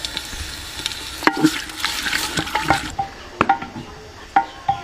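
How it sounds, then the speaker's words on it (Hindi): Onions with garlic and ginger frying in a pot for mutton haleem, a steady sizzle broken by clinks and scrapes of a stirring spoon, close and moderately loud with no talking. "हल्का सुनहरा होने तक भून लेंगे।"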